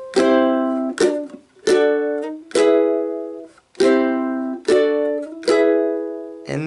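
Ukulele strumming a riff, a run of bright, sharply struck chords in a driving rhythm with short pauses between them, played solo and close.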